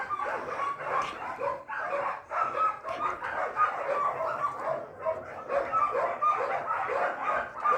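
A dog gives repeated yips and barks at close range, with a voice mixed in and overlapping the sounds throughout.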